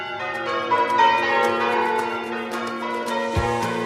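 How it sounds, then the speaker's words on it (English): Church bells ringing in Hoddesdon, a change-ringing peal of several bells overlapping in a steady, dense sequence of clear strikes and sustained ringing, no voices. "The bells are not just for the church, they're for the town as a whole."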